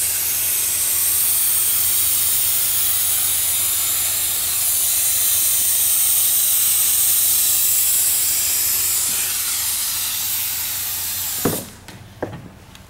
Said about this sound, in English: We're going to go ahead and spray it.